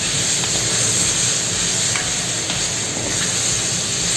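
Finely chopped ginger and garlic with vegetables sizzle loudly in a hot pan for a Thai veg curry, a steady close-up hiss of frying with faint stirring clicks and no voices.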